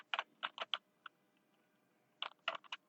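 Short clusters of quick keystrokes on a computer keyboard, with a lone tap and a pause between them, quiet and close while a command is entered in Cisco Packet Tracer.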